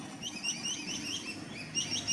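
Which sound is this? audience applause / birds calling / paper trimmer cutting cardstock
birds calling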